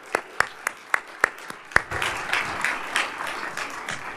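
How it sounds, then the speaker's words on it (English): A conference audience applauds the panel speakers: a few sharp, separate claps ring out in a slow rhythm, then the room joins in with a fuller, moderately loud round of clapping that carries on to the end. "please join me in a round of applause for them"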